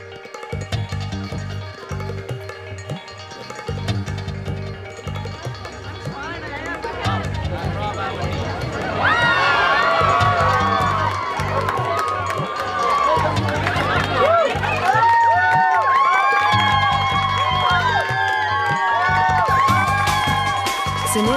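A crowd surges after Bollywood star Sunil Shetty as he enters a store opening, a dense mix of chatter, shouting and cheering that swells louder midway and stays busy and close.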